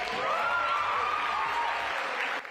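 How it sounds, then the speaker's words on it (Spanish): Applause and cheering fill a constitutional convention hall, dense steady clapping with shouts mixed in, loud throughout and dropping slightly at the very end. "Alegría que se demostró con gritos, aplausos y abrazos"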